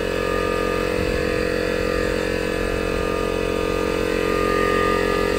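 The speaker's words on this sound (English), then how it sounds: "Sorry about the compressor." An air compressor runs steadily throughout, a loud continuous mechanical hum and drone with no pauses.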